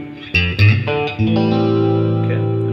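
An electric guitar, thumb-strummed on a riff, rings out loud with chorus and effects: a few struck chords in the first second, then one sustained chord that lingers alone.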